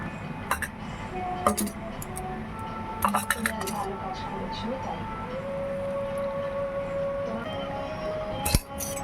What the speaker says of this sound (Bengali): চাটা ভালোভাবে ফুটিয়ে নিয়েছি এবার নাবি নিচ্ছি হচ্ছে ছাঁকবো ছাঁকনিটা দিলাম